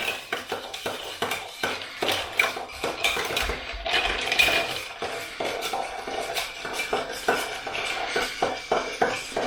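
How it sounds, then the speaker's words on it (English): A bar spoon stirs a Manhattan cocktail over ice in a mixing glass, making a steady, continuous run of close, bright clinks and rattles against the glass. "you kind of want to stir to the outside of the glass or tumbler or whatever you're mixing it in"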